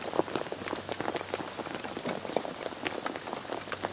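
Heavy rain pours steadily onto a surface, a dense patter of drops with occasional louder splats, close and constant throughout.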